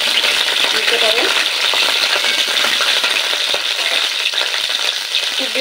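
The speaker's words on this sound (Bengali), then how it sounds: "খুব বেশি লাল করে ভাজবো না" Sliced bitter gourd fries in hot oil in a pan, a loud, dense, continuous sizzle close up, with occasional light rattles of the pieces being moved.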